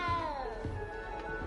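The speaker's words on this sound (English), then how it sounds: "You don't need to be frightened, little cat." A small cat in Hogwarts Legacy gives a single drawn-out meow that slides downward in pitch, close and clear, with a faint second murmur after it and no talking.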